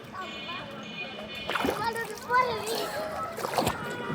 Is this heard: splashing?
yes